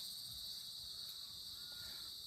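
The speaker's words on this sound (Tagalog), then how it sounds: "kuliglig lang naririnig natin." Steady chorus of crickets chirping on a quiet, empty provincial road in Mariveles at night, a continuous high shrill drone with faint low background noise.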